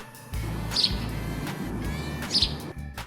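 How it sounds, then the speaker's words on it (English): A sparrow chirps in two short bright bursts about a second and a half apart, heard over a low steady rumble of background noise. "Sparrow. This is a sparrow."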